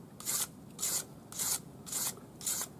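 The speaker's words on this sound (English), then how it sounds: "400 grade paper on a flat sanding stick" Five even back-and-forth strokes of 400-grit paper on a flat sanding stick, worked along a curved metal edge filed back to the bezel, each a close, hissing rasp separated by short pauses.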